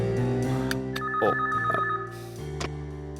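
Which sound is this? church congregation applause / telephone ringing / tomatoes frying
telephone ringing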